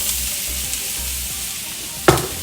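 Chopped onion with chilies caramelizing in oil and butter in a pan, a steady close hiss of frying throughout with one sharper clink of a utensil near the end.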